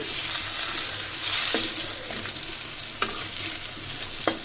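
Loud, dense sizzling of eggplant slices frying in oil fills the clip, with occasional sharp clicks and taps from a utensil turning them.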